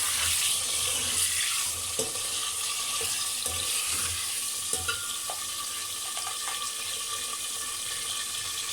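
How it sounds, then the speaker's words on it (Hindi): Chicken pieces frying in hot ghee in a pot while being stirred: a continuous close hiss with occasional scraping and clinking from the stirring, fairly quiet overall and without talk. "अब इसमें ये गोश्त है इसको शामिल कर देंगे और इसको हम अच्छे से फ्राई कर लेंगे"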